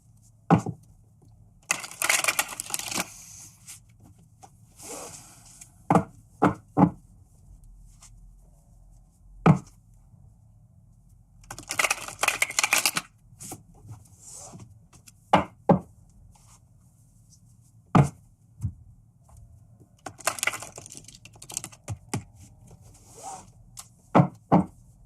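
Tarot cards being shuffled by hand in bursts, with clusters of crisp riffling and sharp taps and snaps of the deck, separated by quiet pauses; close and fairly clear, with no talk.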